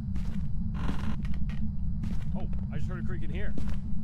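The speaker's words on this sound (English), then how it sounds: "Whoa, creaking here." Creaking inside a building during a ghost hunt, several short creaks and knocks over a constant low hum, with a person talking nearby in between.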